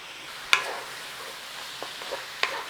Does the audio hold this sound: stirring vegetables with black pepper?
yes